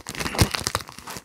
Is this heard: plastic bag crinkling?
yes